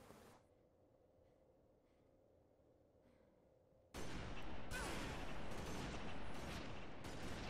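Video game gunfire erupts suddenly after a quiet stretch, with loud rapid shots and dense crackling bursts that continue steadily to the end.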